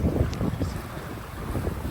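A small sailboat cruises offshore on an open-sea passage from Morocco toward the Canary Islands, with steady wind rushing across the microphone and water washing along the hull in a continuous, close wash.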